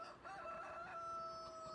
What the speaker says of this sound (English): the rooster said it better than anybody